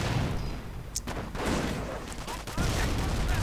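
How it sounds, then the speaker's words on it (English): In a war video game, rifles and PIAT launchers fire at a mortar team in rapid, irregular cracks and thumps, a busy battle din with sharp bursts layered over rumbling background explosions. "As sappers hit it with their rifles and their Piats"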